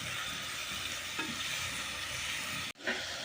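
Chopped onions and tomatoes fry in a pan for a jackfruit biryani, a steady close sizzle broken by scraping stirs and one sharp knock of the utensil near the end.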